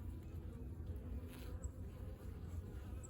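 Honey bees buzz steadily inside a horizontal jumbo Langstroth hive during an inspection, a faint, continuous low drone with no speech over it.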